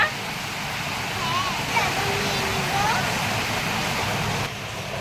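Heavy rain pours outside a home where fish is being cooked, a dense, steady rushing hiss that fills the whole stretch, with faint voices murmuring underneath.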